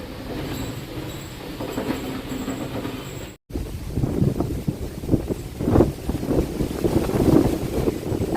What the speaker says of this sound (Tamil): வேறு லெவலில் காற்றடிக்குது